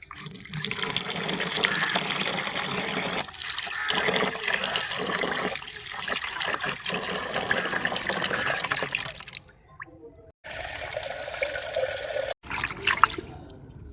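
Running water rinses freshly opened raw oysters, a steady splashing trickle with occasional gushes and brief pauses near the end as the flow stops and restarts.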